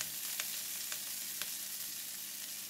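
Yellow mee noodles fry in oil in a pan for mee goreng mamak, giving a soft, even sizzle with a few faint scrapes of a stirring utensil, fairly quiet and with no voices.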